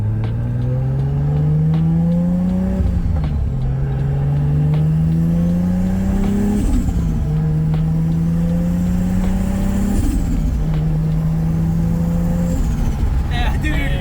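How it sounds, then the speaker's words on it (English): Toyota Supra engine revving through repeated rising pulls with turbo spooling, heard close from inside the car, each climb ending in a brief drop before the next; loud and continuous throughout. "Oh, it's the turbo spooling up."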